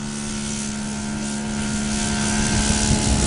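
A giant-scale Cessna 182 RC model airplane takes off, its engine and propeller a steady, loud droning whine that builds slightly toward the end, near and continuous.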